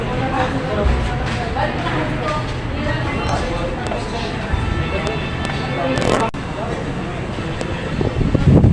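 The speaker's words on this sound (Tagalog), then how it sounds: "Mahangin ngayon dito" Strong wind roars and buffets the microphone in a constant rumbling gust, with people talking faintly underneath.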